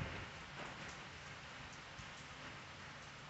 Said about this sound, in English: Listen to the rain, everybody.